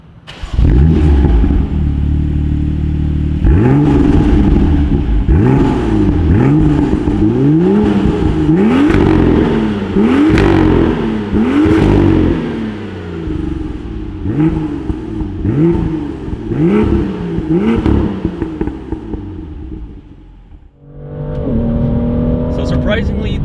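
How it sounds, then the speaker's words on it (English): A BMW M2's engine rises through the revs in repeated pulls from inside the car, its mechanical induction note climbing loudly, then briefly quieting before building again near the end. "you do get this nice mechanical sound coming from the front of the car"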